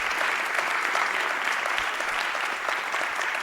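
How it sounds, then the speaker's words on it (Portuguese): An audience at a forum on religious freedom gives sustained, loud applause for the panelists, a dense even wash of clapping throughout with no speech over it. "vou pedir uma salva de palmas aos nossos painelistas."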